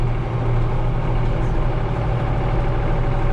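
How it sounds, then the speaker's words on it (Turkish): A tractor engine running steadily with a deep low rumble and constant idling drone, close and continuous, with no speech over it. "Ben bu arada Semaha traktör kullanmış oldum."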